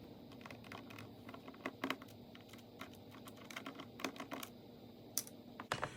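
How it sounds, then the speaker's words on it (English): A screwdriver works screws loose from the bottom panel of an MSI GF63 10SC-222US thin gaming laptop, producing faint, close, irregular small clicks and ticks over a soft background hum, with no talking. "So I'm going to go ahead and start taking these screws out so that I'll be able to get the bottom of the laptop."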